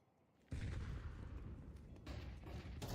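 Grenades burst in a Counter-Strike match, with a loud rumbling blast erupting after half a second and further thudding explosions rolling on through the rest of the clip.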